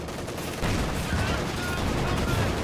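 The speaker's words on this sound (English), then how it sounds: "The anti-infantry strafe doesn't really seem to do much of anything" Anti-infantry strafing run from a WWII real-time strategy game, a dense rattle of rapid gunfire and distant impacts that thickens after the first half second and continues steadily, mixed with battle noise and a faint voice.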